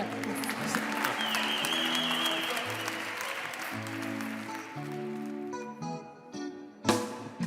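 Loud audience applause at a Christmas concert with Creole music in Avignon, sustained clapping from a crowd while sustained musical tones carry underneath, then thinning out toward the end with a few last claps.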